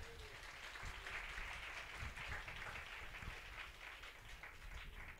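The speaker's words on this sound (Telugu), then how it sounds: "కొట్టు చప్పట్లకు సార్" A congregation at a church sermon in Guntur claps together in a sustained, fairly faint patter of applause that continues throughout.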